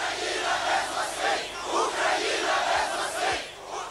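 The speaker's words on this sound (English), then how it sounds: "outside, the crowd chanted Ukraine without Moscow" An outdoor political crowd chants "Ukraine without Moscow" in unison, loud rhythmic surges of many voices rising and falling in repeated waves.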